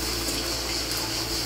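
Dried lotia fish (Bombay duck shutki) is rinsed in water while cooking, producing a steady, close, continuous rush of running or splashing water with no voices.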